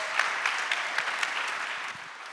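Conference audience applauding after a panel, steady dense clapping from a sizable room, fairly loud and sustained before tapering slightly at the end.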